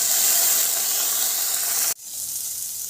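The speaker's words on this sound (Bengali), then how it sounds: "অল্প করে জল দিয়ে দেবো" A little water poured into a hot pan of fish paturi hisses loudly and steadily for about two seconds, then cuts off abruptly to a quieter background.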